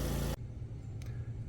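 A Kawasaki or Kohler commercial mower engine runs close by with a steady low idle rumble, dominated by low frequencies. A loud burst of noise opens the clip before the engine drones on alone.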